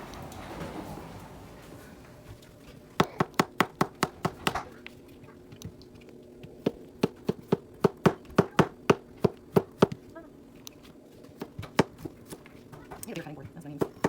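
A kitchen knife cuts through food on a board to remove a brown spot while preparing a pasta bake, producing crisp, rapid tapping chops in bursts, close and clear, with someone talking underneath.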